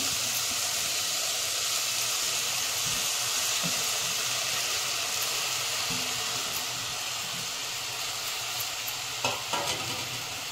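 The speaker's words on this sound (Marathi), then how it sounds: "याच्यामध्ये आता मी तांदूळ घालते, धुवून घेतलेले आहेत स्वच्छ" Washed rice goes into a hot pan with green peas for Maharashtrian masala rice, giving a steady, loud sizzle and hiss with stirring scrapes and a few clinks near the end.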